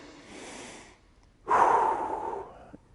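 Belly breathing: a soft inhale through the nose, a short pause, then a louder, breathy exhale pushed out through the mouth with an audible whooshing sigh that fades away, close up.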